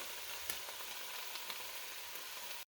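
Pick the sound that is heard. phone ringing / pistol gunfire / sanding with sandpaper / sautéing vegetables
sautéing vegetables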